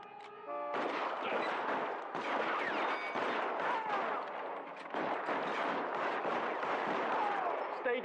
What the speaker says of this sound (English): Fire a warning round.